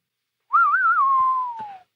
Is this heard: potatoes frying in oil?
no